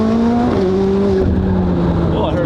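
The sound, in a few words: supercar wheel spin on cold tires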